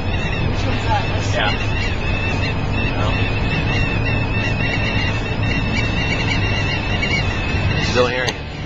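A van's air vent emits a thin wavering whistle over steady road and cabin rumble, rising and falling in pitch, with people talking faintly underneath.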